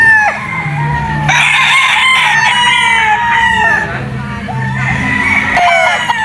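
A gamefowl rooster crows again and again, close and loud, at a gamefarm on Mt. Banahaw, with clucking and other fowl in the background and someone talking over it.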